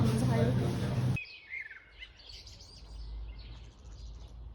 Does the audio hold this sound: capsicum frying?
no